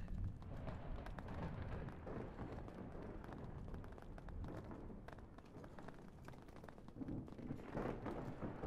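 Heavy hail drums down without pause in Minecraft, a thick rushing patter that swells slightly near the end; no one speaks.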